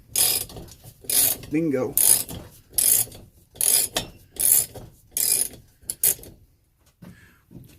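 A ratchet with a 9/16 socket turns screws out of an early-1930s Coleman 228B lantern, giving a series of about eight short, crisp ratcheting bursts at a steady rhythm, close up with brief pauses between.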